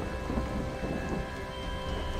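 Storm spell from the video game Torchlight 2 crackles with thunder and lightning, a dense continuous rumbling roar like heavy rain and thunder that stays steady and loud throughout, with no talking.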